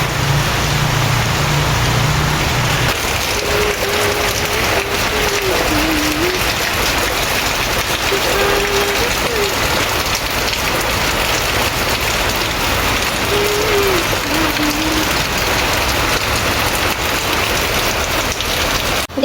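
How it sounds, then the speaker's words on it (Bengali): Heavy rain pours steadily outdoors on a rainy day, a loud, continuous wash of drops hitting surfaces for the whole stretch, with no voices. "বাইরে কিন্তু প্রচুর বৃষ্টি হচ্ছে।"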